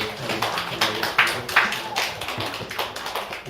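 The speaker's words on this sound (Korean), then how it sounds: "다시 한 번 우리 박수 드려요" A congregation claps after hymn singing at a Sunday afternoon church service, a busy run of many hands with some claps falling together in rhythm. A voice can be heard faintly under the clapping.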